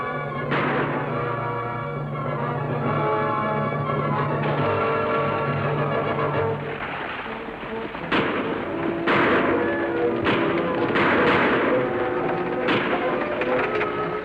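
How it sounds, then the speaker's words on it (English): Gunfire from over a ridge in a 1954 TV western: several sharp, distant-sounding shots crack out irregularly after a sustained tone, scattered across the second half and echoing faintly. "Sound like shots come from over ridge."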